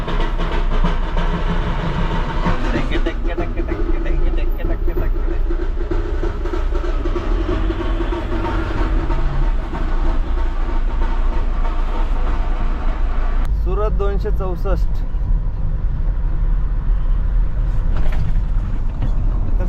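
Heavy road traffic on the highway into Mumbai heard from inside a Mahindra Bolero pickup, a dense steady rumble of engines and tyres with a horn partway through, while someone talks over it.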